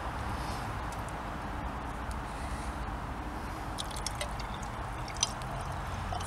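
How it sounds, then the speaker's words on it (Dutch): Water poured into a mason jar holding ice cubes for homemade lemonade, a steady soft liquid rush lasting several seconds with a few faint splashy ticks, no talking. "Dan doe je er water bij."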